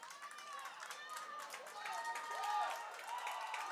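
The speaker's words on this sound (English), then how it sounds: "the crowd is getting riled up here. They're excited." A crowd at a Panthers football game is noisy and excited, its cheering and clapping rising in a thick, busy wash with voices mixed throughout.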